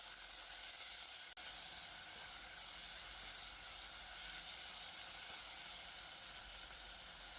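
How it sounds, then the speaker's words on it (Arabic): Steady, loud sizzling of diced chicken breast frying in oil in a hot pan over high heat, a continuous hiss with a brief scrape of stirring, no voices. "نحركه على نار عالية لين يصير لونه أبيض."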